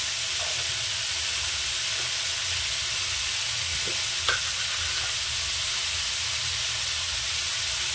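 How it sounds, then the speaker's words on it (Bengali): Radish and puti fish curry being sautéed in a pan, a steady low sizzle and hiss running evenly throughout with faint stirring scrapes, close and unbroken by talk. "এবার তরকারিটাকে সুন্দর করে কষে নেব।"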